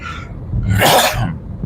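A single loud, harsh cough bursts out close by, preceded by a brief throaty rumble and fading into a short wheezy tail.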